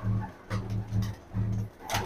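Pigeons kept for training by a fancier coo in a close, steady rhythm, three low rolling coos in about two seconds with a brief pause between each and no talk.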